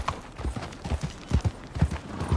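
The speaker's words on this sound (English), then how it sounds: "There's my horse." Horse hooves clip-clop in a quick, steady trotting rhythm, fairly close and moderately quiet, from the video game Red Dead Redemption 2.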